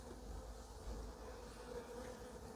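European dark honey bees buzz around a sunlit hive in a steady, soft drone that continues under faint background noise, with no voices.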